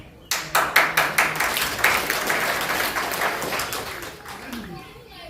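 Audience applause at a religious discourse by a saint in Prayagraj: a burst of loud, dense clapping starts abruptly, peaks early, then slowly thins and fades over several seconds.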